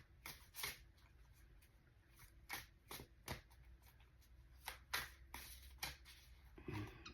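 Tarot cards are shuffled by hand in a quiet room, with a series of short riffling bursts arriving in an irregular rhythm, close and fairly soft.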